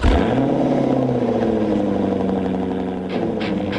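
A Jaguar XKR-S race car engine roars loudly as it accelerates, a deep throaty growl rising in pitch and holding steady, heard up close.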